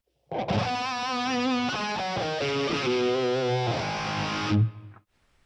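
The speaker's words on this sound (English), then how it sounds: "Now with reverb and script phase." Heavily distorted electric guitar through a POD HD500X processor, with reverb and script phaser, a loud continuous lick of sliding held notes with a swirling sweep that stops abruptly near the end.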